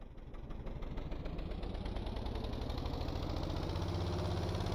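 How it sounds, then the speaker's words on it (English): A simulated engine in the building game Stormworks revs steadily upward, a buzzy mechanical drone whose pitch climbs smoothly throughout, with no one talking. "get this engine revving"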